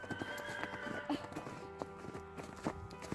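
Horses at a stable in snowy countryside whinny and neigh over scattered hoof clip-clops, several calls rising above a quiet yard background, with faint voices in the distance.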